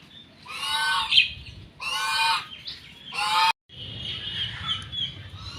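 Loud, raspy honking calls from geese nearby, in several bursts with short pauses between them.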